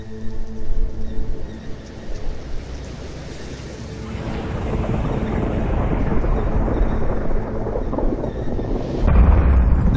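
Stormy weather with deep rolling thunder and heavy rain, a low rumble that swells and stays loud and broad, with a stronger crack near the end.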